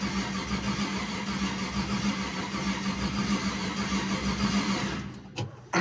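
A turbocharged 4.8L small-block ratrod truck engine cranks over at first start-up with a steady, loud, dense mechanical churn that suddenly drops out near the end.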